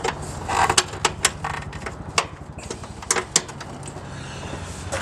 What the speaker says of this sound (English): Attaching the nuts and bolts.